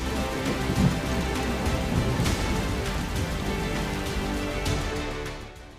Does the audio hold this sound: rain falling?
yes